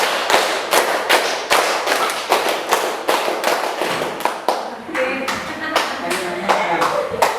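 Students in a classroom clap a rhythm pattern, several quick rounds of five loud, crisp group claps in a row with brief gaps between rounds.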